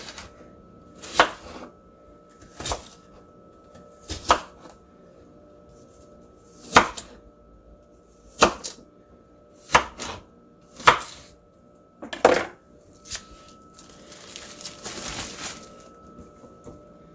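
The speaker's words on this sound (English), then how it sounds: "Get my onion chopped." An onion being chopped with a knife on a cutting board: about eight sharp, separate chopping strokes at uneven intervals, close and clear, ending in a looser scraping flurry, with no talk.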